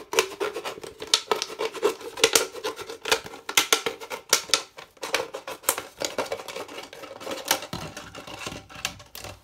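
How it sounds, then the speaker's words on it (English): Scissors snip and crunch through a plastic bottle, cutting it in two, with a close, irregular run of sharp clicks and scratchy rasps that continues steadily without any talk. "I'm going to cut this into two sections"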